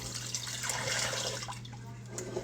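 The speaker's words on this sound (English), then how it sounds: "We're going to add some water." Water poured into a crock pot holding beef fat being rendered into tallow, a short close splashing trickle over a steady low electrical hum, with no talking.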